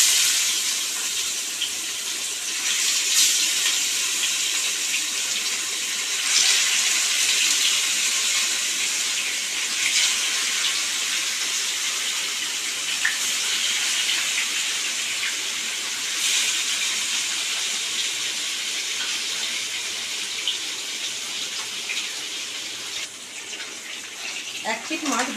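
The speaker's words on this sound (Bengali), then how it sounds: "এবার আমি একে একে মাছগুলি দিয়ে ভেজে তুলে নেব" Rohu fish pieces, rubbed with salt and turmeric, fry in hot oil as a continuous loud hissing sizzle that rises and eases slightly over time, with a few sharper crackles.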